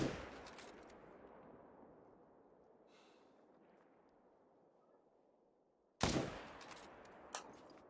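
Rifle shots while hunting red deer on Te Awaroa, outdoors: the tail of a loud shot decays into quiet, then a sharp, close second report bursts out, followed by a smaller crack, with no talk.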